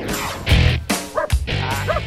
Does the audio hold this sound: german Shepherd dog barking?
yes